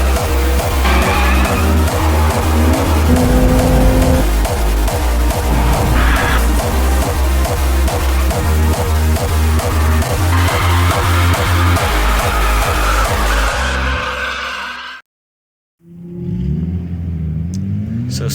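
Rented Nissan 350Z drift car at a Matsuri 2024 drift track day, revving loudly and steadily with engine pulses and tire squeal, cutting to brief silence near the end before the engine roars again, with no talk.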